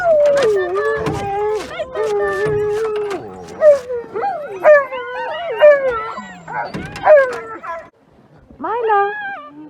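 A sled dog on a frigid day howls, whines and whimpers in long wavering cries, close and loud, with yips between, while a person talks over it.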